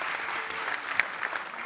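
An audience at a concert with a grand Mozart competition final claps in sustained, dense applause, many hands close and steady throughout.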